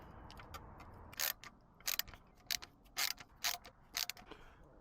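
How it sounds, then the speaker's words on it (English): Screws being driven in while fitting new radio parts into a Toyota Corolla AE114, heard as short, close bursts of mechanical clicking and ratcheting at an uneven pace with quiet pauses between them. "Now it's time to screw stuff in."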